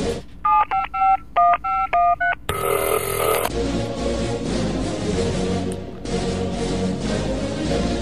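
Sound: telephone being dialed, touch-tone dialing

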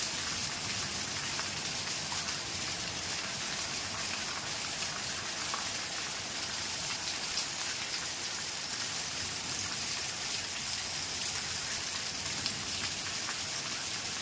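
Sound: torrential rain pouring

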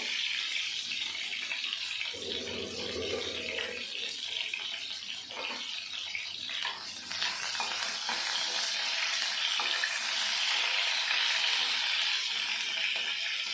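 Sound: pointed gourd frying in oil

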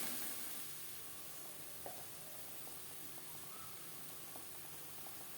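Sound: ginger paste, green chili paste and tomato sizzling while frying

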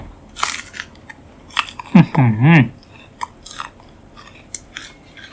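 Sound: biting and chewing a crunchy fruit

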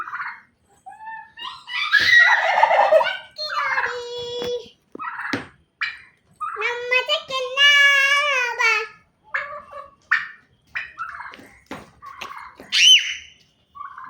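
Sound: turkeys gobbling

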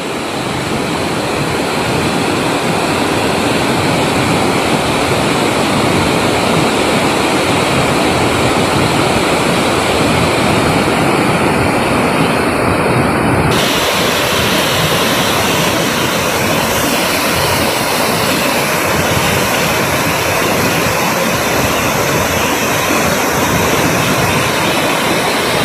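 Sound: Kanger Dhara waterfall in Kanger Valley National Park

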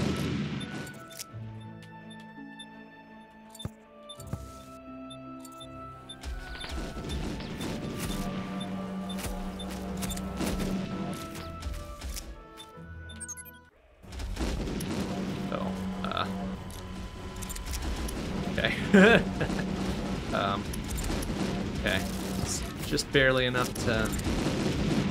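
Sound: fire grenade launcher shots in video game WarSphere

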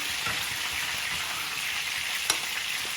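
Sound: spices and masala slowly roasting in a pan

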